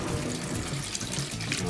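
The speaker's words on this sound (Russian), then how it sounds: "Даже уже морковку моют." Water runs from a summer outdoor garden shower with a heated tank while carrots are washed under it, a steady soft splashing stream close by, with a voice murmuring faintly underneath.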